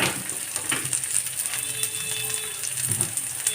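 Chutney ingredients sauté in a pan with a soft, steady frying sizzle, punctuated by a few small metallic taps and clicks from stirring, close up with no talking.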